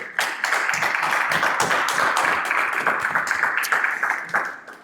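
A crowd breaks into loud, dense applause, many hands clapping together for a few seconds before it starts to fade.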